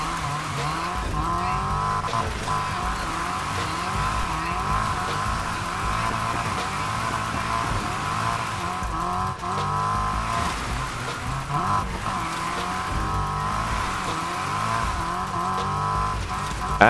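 A Nissan Silvia S15 drift build in the racing game Need for Speed Heat runs with a five-speed gearbox, its engine revving steadily with tire squeal and road noise throughout, loud and continuous.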